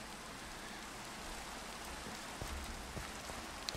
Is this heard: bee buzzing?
no